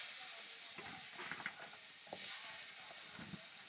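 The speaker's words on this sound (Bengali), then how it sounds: "এইবার আমি ওই পটল ভাজা তেলের মধ্যে দিয়ে দেব কেটে রাখা আলুগুলোকে" Cut potatoes dropped into hot oil left over from frying pointed gourd, giving a quiet, steady sizzle with a few soft clinks and stirring scrapes.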